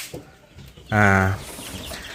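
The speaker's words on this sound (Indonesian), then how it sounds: "Nah ini ada brown dan ada black leghorn ya." A brown or black Leghorn chicken lets out a single short, loud cluck close by, with faint background noise around it.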